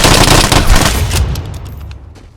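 Loud, rapid automatic fire from an L85A1 rifle in the video game Vigor, a dense burst of close shots that tails off into echoing decay.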